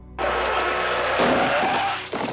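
A car in a 1955-set film scene speeds toward a fallen man, a loud sustained engine roar with tire squeal rising and holding, close and intense, alone without voices.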